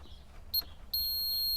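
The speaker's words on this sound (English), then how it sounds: "If you press this button, the alarm should go off." A Land Rover 300tdi coolant level alarm gives a short electronic beep during a test, then a steady high-pitched tone sounds continuously inside the vehicle.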